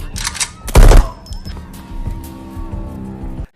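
Gunfire aimed at a fugitive in an action film scene, a loud close blast cluster near the start with sharp reports, followed by a rumbling, tonal backdrop of movie effects and engine-like drone.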